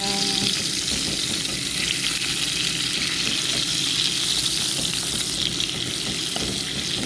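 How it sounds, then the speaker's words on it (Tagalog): Garlic frying in hot butter in a pan while being stirred, a steady dense sizzle that fills the whole stretch, loud and close with faint scraping of stirring and no talk. "Tapos ilagay na natin itong bawang natin. Ayan na, haluin lang."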